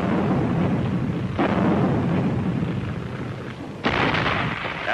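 A dense roar of 105mm artillery batteries firing on Iwo Jima, with heavy booming blasts rising out of continuous rumbling, two stronger bursts standing out, and no voices.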